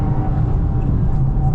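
A manual 2025 Subaru WRX tS Spec B pulls uphill at full throttle in third gear, its engine a loud, deep, steady drone heard from inside the cabin and building as the car picks up speed.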